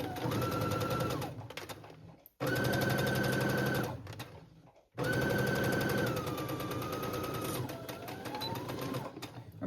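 A sewing machine running a regular straight stitch along a cardigan seam, in three steady whirring bursts separated by short pauses, with a rhythmic mechanical chatter that rises and eases slightly in speed, close and alone without talk.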